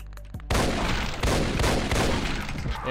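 Shotgun fire in Complex Doom starts abruptly after a brief quiet lead-in. A rapid, loud barrage of booming blasts and impacts then runs continuously, close and heavy, with no talking.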